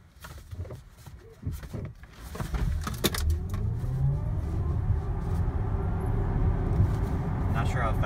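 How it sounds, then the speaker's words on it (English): A 2018 Tesla Model X P100D Ludicrous accelerating hard from a standstill, giving a steady rising electric whine and road rumble that builds after a few seconds and holds loud to the end, with voices talking over it early on. "take a seat, because we're going to accelerate"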